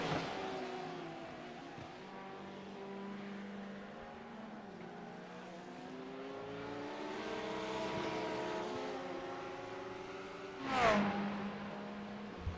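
Rear-engined GT3 race cars, including a Lamborghini, in a sim racing endurance game, heard as faint, continuous engine drones rising and falling in pitch through gear changes, with a brief louder whoosh near the end as a car passes.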